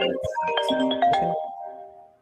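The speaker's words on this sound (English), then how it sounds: "Somebody's got a phone call." A phone ringtone plays a short bright melodic jingle of rising and falling tones, fairly loud and close, which lingers and fades away at the end.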